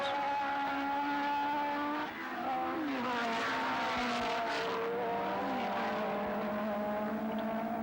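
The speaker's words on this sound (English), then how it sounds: "Gardner and Bartlett circulate about 100 yards apart in 3rd and 4th positions." 1969 Tasman Series open-wheel race cars run in the rain, engines droning and shifting pitch as they pass, loud and continuous with no talking.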